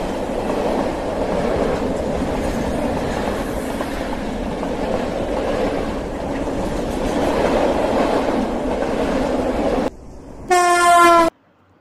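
A train rumbles along steadily for about ten seconds with a clattering rhythm, loud and close, then a sharp horn blast sounds briefly at the end.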